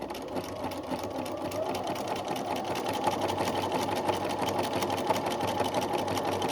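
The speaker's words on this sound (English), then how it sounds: "Start by sewing zigzag or overlock on the lower edge." A sewing machine runs a zigzag stitch along the lower edge of a summer dress, a steady rapid mechanical chatter held at an even pace.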